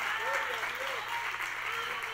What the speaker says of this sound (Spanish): ¿Cuántos aplauden a Dios por esa verdad?